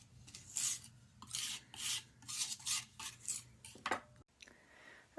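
A palette knife rasps and scrapes as it mulls foraged earth pigment into oil on a plate, with repeated rhythmic strokes in bursts, close and fairly quiet, ending in a short pause.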